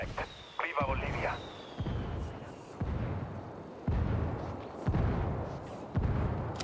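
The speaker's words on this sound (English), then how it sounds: "I called Pacatari for some mortar fire" Mortar fire in the shooter game Ghost Recon Wildlands: heavy booms land roughly once a second in a steady rhythm, each with a rumbling tail, while faint radio-style voices murmur beneath.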